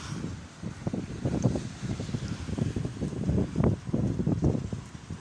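Strong wind buffets the microphone outdoors under a cloudy sky near sunset, a steady loud rumbling roar with gusting surges throughout, no voices.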